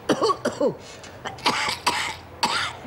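An elderly woman coughs repeatedly in short harsh bursts, with throat clearing and a few close coughs spaced across the moment.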